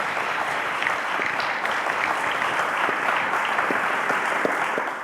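A studio audience at a televised quiz show applauds steadily and loudly throughout, a dense continuous wash of clapping with no break.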